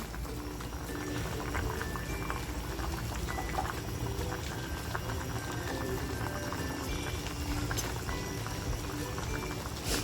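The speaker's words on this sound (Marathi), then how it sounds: "बघ आपला किती छान उकळतोय झाकण काढून बघूया" Black pomfret masala bubbling in a covered pan: a continuous, dense simmering boil with steady crackle and bubbling, close and even in level throughout, no voices.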